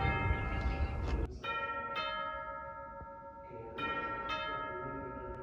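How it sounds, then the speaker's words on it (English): Deep doorbell chime tones in a historic house ring out in a slow sequence, each note struck and left to ring and fade, with a second series of strikes following. "Now we heard the door chimes."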